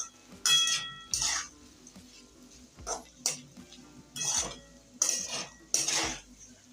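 A spoon scrapes and clanks against a pan while vegetables and spices are stirred for batata poha, several separate bursts of metallic scraping with quiet gaps between, close and clear.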